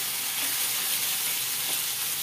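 Steady oil sizzling and hissing in a pan as ginger fries, constant and fairly loud with no pauses or voices.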